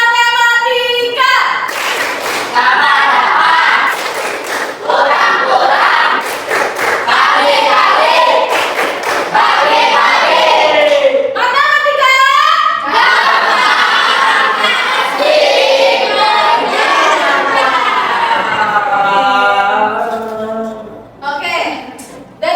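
A classroom of children performs a rhythmic clapping routine, bursts of claps and thumps alternating with chanted group voices, loud and close, fading near the end.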